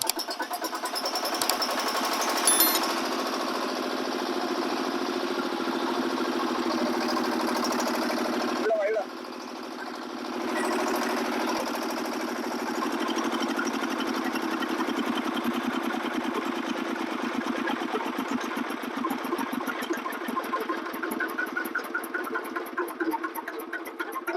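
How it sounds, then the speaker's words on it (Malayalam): A Kirloskar TAF1 diesel engine coupled to an SP 3L pump through a tyre coupling runs close by with a steady, continuous chugging drone. It dips briefly partway through, then carries on evenly. "നമുക്ക് എഞ്ചിൻ സ്റ്റാർട്ട് ചെയ്തതാണ്"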